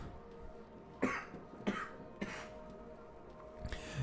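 Four short coughs, spaced irregularly, fairly soft against a low steady background hum.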